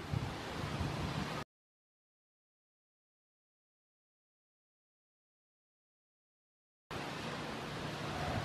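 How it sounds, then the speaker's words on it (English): Strong wind gusting outdoors around a patio umbrella, a dense roaring rush buffeting the microphone, loud at the start, cutting out to silence, then returning just as forceful. "the wind is just ripping right now"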